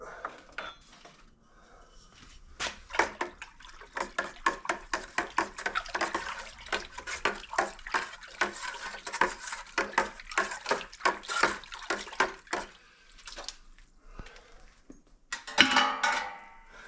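Water being stirred in an old bucket mixed with washing soda for electrolysis rust removal, giving repeated sloshing, clinking splashes in a steady rhythm at close range, quiet at first, then louder with a final burst of splashing near the end.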